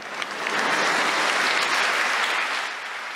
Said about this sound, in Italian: Il vescovo attraversa i settori in piazza, accolto da un applauso